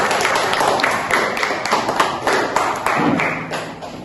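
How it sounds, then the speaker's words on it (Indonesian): Students in an Arabic grammar and translation class clap their hands together, a few seconds of close, uneven slaps and taps at loud volume without speech. "Nah, tepuk tangan dulu untuk teman-teman."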